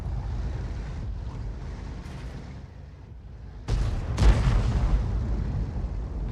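A self-propelled artillery gun fires in a tank video game, with a loud booming blast and rumbling tail around the midpoint over steady wind-like background noise.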